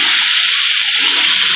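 Water pours steadily into a cooking pot of rice for chicken biryani, giving a close, loud, continuous hiss and splash.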